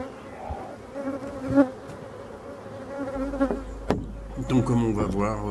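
Honeybees hum and drone close by at an open hive in a steady buzz, with a few sharp clicks and knocks of handling mixed in.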